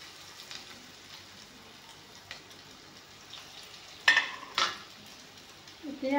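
Bitter gourd slices fry in refined oil in a kerahi wok, giving a soft, steady sizzle. A couple of brief utensil clatters break in near the end, and no one speaks.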